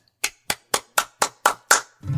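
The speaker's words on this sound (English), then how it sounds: "Give it a round of applause" Seven evenly spaced hand claps ring out sharp and close in a quiet room, ending as a voice begins speaking.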